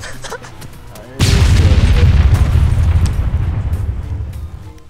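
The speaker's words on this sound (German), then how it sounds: "weil deren Fass explodiert ist" A barrel explodes in the video game Altis Life, a sudden loud boom that breaks over quieter game noise and then rolls on as a dense, rumbling roar slowly fading.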